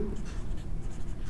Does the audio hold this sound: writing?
yes